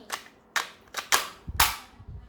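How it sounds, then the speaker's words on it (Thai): A military-pattern toy gun fires six sharp cap-style pops in quick, irregular succession, loud and close with no talking. "เป็นปืนลายทหารนะ ตรงนี้ก็ใส่กระสุน สามรู"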